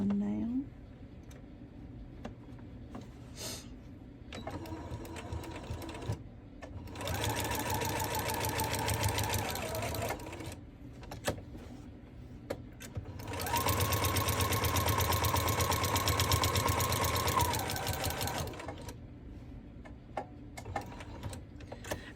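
A sewing machine stitches a coat panel in two long, fast runs of rapid mechanical chatter, separated by pauses with light clicks and handling noises, with a voice talking briefly at times.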